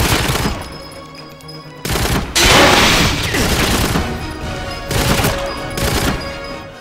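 Gunfire in a video game as a fire extinguisher is shot, loud bursts of shots and sharp impacts with a hissing, crashing blast in the middle, heavy and close, fading between bursts.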